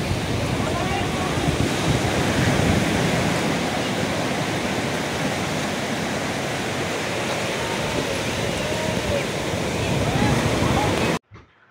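A typhoon at sea brings strong wind and crashing waves, a loud continuous roar of surf and gusts buffeting the microphone, cutting off abruptly near the end.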